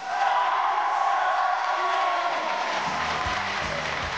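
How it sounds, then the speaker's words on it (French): Studio audience of a French TV game show cheering and applauding loudly, with a dense continuous roar and shouts, then music entering underneath toward the end. "Attention, applaudissements."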